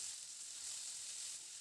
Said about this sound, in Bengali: এরপর এখানে কেটে রাখা আলুটা দিয়ে দিলাম।